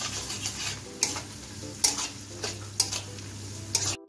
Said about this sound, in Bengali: পেঁয়াজটা আমি ভেজে নেব